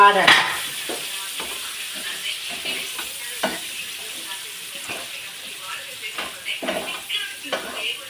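Onions sauté in a pan left over from frying fish for a Kerala fish biryani masala, giving a soft crackling sizzle broken by intermittent stirring scrapes, with a voice talking over it.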